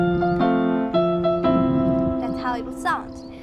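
Piano chords from a song strike in a few separate attacks and ring out, with a voice talking over the later part.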